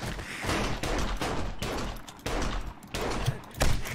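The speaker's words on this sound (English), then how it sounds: "Shots fired." Gunfire rattles in the zombie survival game 7 Days To Die during multiplayer play, a dense run of rapid shots in several bursts with brief gaps, loud and close throughout.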